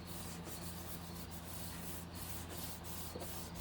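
Stamped paper for a handmade farmhouse floral card being rubbed down by hand, a steady, soft, continuous scuffing that runs faint and unbroken throughout with no voices.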